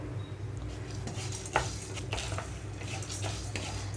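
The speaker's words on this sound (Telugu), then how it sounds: "పుట్నాలు పప్పు వేసిన తర్వాత 30 సెకండ్స్ పాటు లో ఫ్లేమ్లోనే ఉంచి వేయించుకుంటున్నాను." Roasted gram dal and unpeeled garlic cloves tossed in a pan over a low flame, with soft scraping stirs and light clinks of a spoon against the metal, close and fairly quiet.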